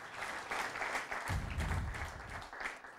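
A crowd applauding at a political rally in Rome, dense continuous clapping with a low rumble of cheering beneath it, staying loud and steady throughout.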